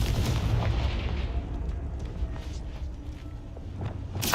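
Confringo fire spell blasts in the video game Hogwarts Legacy, a dense booming roar with crackling bursts that fills the clip and swells again with a fresh burst at the end.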